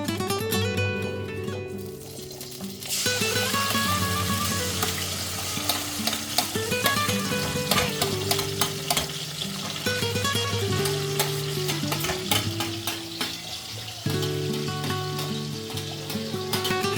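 Ground bean paste for Bengali shim bhorta is poured into an oiled pan and fries, a steady close sizzle with stirring scrapes and clinks running throughout, briefly quieter near the start before the frying swells.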